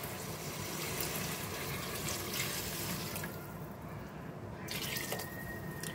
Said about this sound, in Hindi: मैंने इसमें पानी डाल दिया तकरीबन 3 गिलास